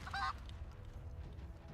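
A chicken in the video game Divinity, made by a polymorph spell, lets out one short, bright squawk at the start, then only a low rumbling background follows.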